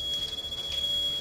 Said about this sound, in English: You could actually hear the fire alarm going off.